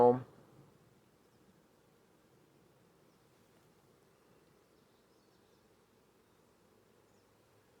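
Honeybees hum around an open hive during a late-July inspection: a brief knock at the start, then a faint, steady, low buzzing drone that continues evenly throughout.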